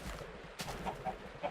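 Chickens in Minecraft give a few soft, short clucks, faint and spaced apart over a low background murmur.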